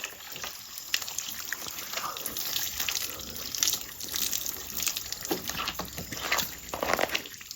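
Water runs and splashes steadily while a motorcycle is washed at home, a close, continuous gushing and trickling with uneven spatters.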